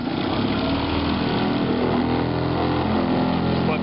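A small outboard boat motor running steadily after a pull start, a continuous close engine drone at even loudness throughout with no voices.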